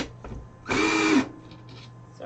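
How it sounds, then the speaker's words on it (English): A power drill whirs in one short, loud burst of about half a second as it bores into a wooden farmhouse tray, with quieter handling noises before and after. "Get my drill."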